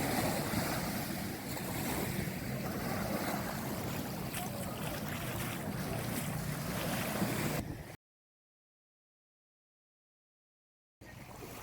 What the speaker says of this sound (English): You look out there, there are boats and jet skis, and more boats and jet skis.